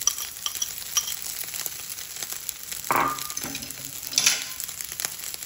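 Rice stir-frying in a hot pan with dried anchovies (dilis) and scrambled eggs keeps up a steady crackling sizzle, broken by a few louder scraping stirs of the spatula, with no talking.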